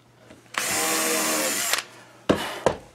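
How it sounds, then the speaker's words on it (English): A power drill bores into wood for a sun-glasses hanger: one sustained whirring run of over a second, followed by two short bursts of the motor. "That drill bit is set exactly the length."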